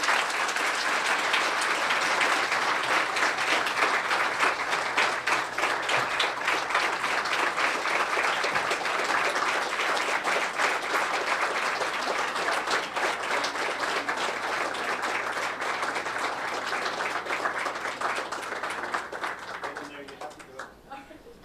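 Sustained, dense applause from an audience at an awards evening honoring a person of the year, a loud, steady wash of many hands clapping that runs for about twenty seconds before tapering off near the end.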